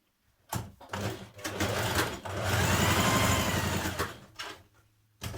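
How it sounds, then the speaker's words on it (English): Domestic sewing machine stitching the underarm seam of a dress sleeve, with a few short bursts of stitching, then a longer steady run and more brief bursts, close and clear. "Now sew the underarm of your sleeves together on both sleeves."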